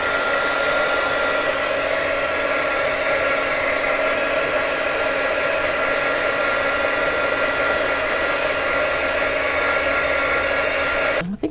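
Hair dryer blowing on a steady loud high setting, drying paint on a handmade party face mask, running close and unbroken until it clicks off at the very end.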